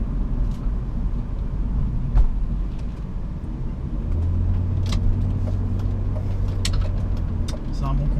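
A 1998 BMW 323i E36 Touring with M52 engine and automatic gearbox, heard from inside while driving as a steady low engine hum and road rumble, with faint clicks and rattles.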